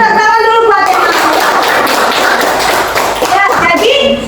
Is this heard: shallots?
no